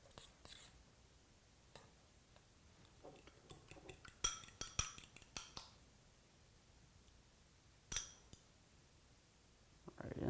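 A utensil scrapes and clinks against a bowl as beaten egg is mixed into processed cauliflower for a three cheese cauliflower pizza crust, with scattered light taps and a busier flurry of clinks midway, close and fairly quiet.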